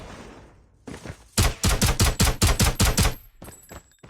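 Gunfire from Call of Duty Mobile: after a quiet start, a loud, close burst of about ten rapid shots comes in an even rhythm and then stops, leaving faint game ambience.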